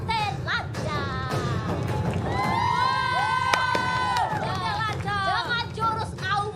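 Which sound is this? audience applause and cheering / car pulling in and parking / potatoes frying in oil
audience applause and cheering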